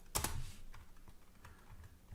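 Someone types a prompt on a computer keyboard, producing a short burst of quick, close key clicks followed by softer scattered taps in a quiet room.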